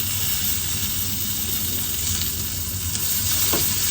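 Onion and pepper fry in a pan with a steady, even sizzle throughout, a faint stirring scrape near the end, and no talking.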